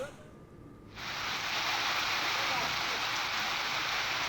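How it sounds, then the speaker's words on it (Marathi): Heavy rain with strong wind in Manchar sets in abruptly after a quieter first second, then holds as a dense, even roar of hiss. "वाऱ्यासह मुसळधार पाऊस या ठिकाणी होताना दिसतोय।"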